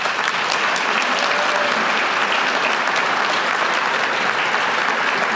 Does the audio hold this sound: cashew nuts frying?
no